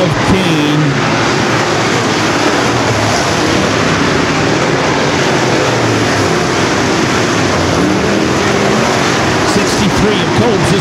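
Modified race cars roar around a dirt track at the Harvest Cup feature, engines blaring loud and continuous as the field rockets through a turn, with an announcer talking over the noise.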